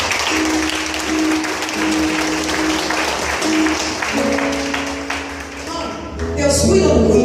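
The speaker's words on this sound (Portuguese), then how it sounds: "Aplauda o Senhor." Applause from a church congregation during a Catholic prayer group gathering, steady dense clapping under sustained organ or keyboard tones, swelling louder near the end.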